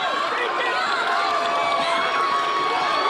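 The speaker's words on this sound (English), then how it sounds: "And the crowd is wild here at the Children's Hospital." A crowd at a children's hospital event cheers and shouts during a close bowling finish, a loud, steady wash of voices and excited yells that continues without a break.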